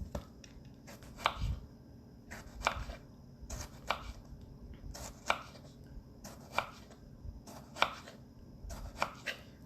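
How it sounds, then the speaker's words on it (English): A knife dices a tomato on a cutting board in a kitchen, each crisp chop landing in short, regular bursts at close range with no one talking. "We're going to cut the tomato."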